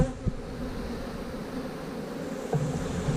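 Honeybees in a large beehive in South Carolina drone with a loud, continuous buzzing roar close by, with a couple of faint knocks over the steady hum.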